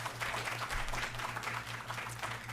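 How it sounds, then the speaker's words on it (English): An audience applauds the teams at a regional client interviewing competition, a continuous patter of many hands clapping at moderate volume and slightly distant, with a low hum underneath. "So I'm going to ask everyone to give the teams a round of applause."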